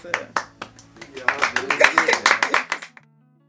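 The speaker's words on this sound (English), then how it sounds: "Give yourselves a round of applause." Small group of college students clapping at a Q&A session, starting with a few scattered claps, then swelling into a brief, fairly close round of applause before stopping abruptly near the end.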